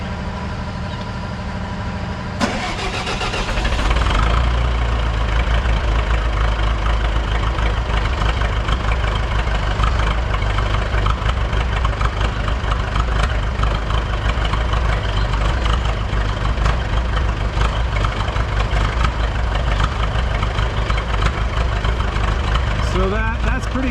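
Buda D175 diesel engine on biodiesel cold-starting, then running with a steady loud rumble that misses now and then while cold; a voice talks over the engine noise.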